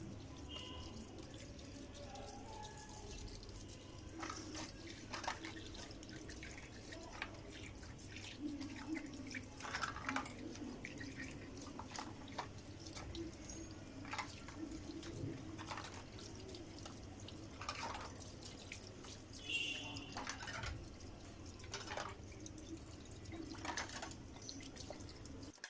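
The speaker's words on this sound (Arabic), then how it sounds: "كده في الحوض هتسهل عليكي الميه الجاريه ديت عليهم، هتسهل عليكي الشطيف" Water runs and drips into a kitchen sink during rinsing, faint and close, with scattered small splashes and droplet ticks over a soft continuous trickle.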